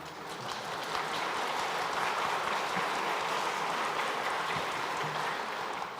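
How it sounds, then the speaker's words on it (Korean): A church congregation at a Sunday worship service applauds in sustained, even clapping that fills the room for several seconds without a break. "우리 잠깐 자리에 일어나시면 또 위로와 격려의 박수 드리도록 하겠습니다."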